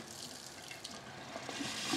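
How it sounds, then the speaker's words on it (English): A boiling water tap pours a vigorous stream from its spout into a sink, a steady close hiss and splash that swells slightly louder toward the end, with no talking. "So the flow is more energetic coming out of the spout because of the key difference with our product"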